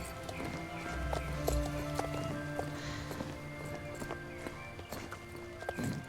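Horse hooves clop in the online game Star Stable Online, a steady rhythmic run of hoofbeats with faint background game sounds and no talking.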